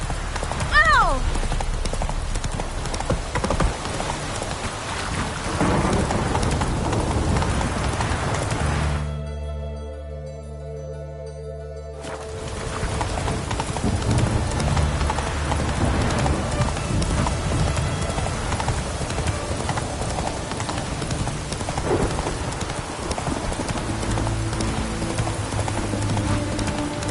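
Roach the horse gallops in The Witcher 3 on PS5, a steady, rapid clip-clop of hooves that drops out briefly midway and then resumes, with game voices and ambient sound mixed in.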